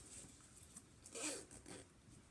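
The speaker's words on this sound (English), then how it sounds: "Almost pulled my zipper off." A zipper pulled quickly once while sewing a small cash card wallet at home, a brief rasping zip near the middle, close and fairly faint against quiet room noise.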